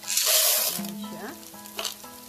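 Popcorn kernels poured into hot olive oil for old-school stovetop popping, giving a loud, close hiss of sizzling frying that settles into a steady, quieter crackle with faint stirring.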